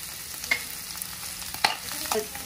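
Potato curry being stirred in a pan for a fasting meal, a few soft scrapes and clinks spread over a quiet background with a faint sizzle.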